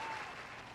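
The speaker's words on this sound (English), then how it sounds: "Let's hear a round of applause for Bumblebee Blinds." An audience claps at a live outdoor show in a Waco backyard venue: a short, dense burst of applause at steady volume.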